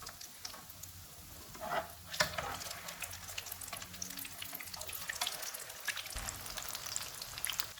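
Keema vegetable kababs frying in hot oil over a medium-low flame, a steady close crackling sizzle with soft spattering pops throughout and no talking.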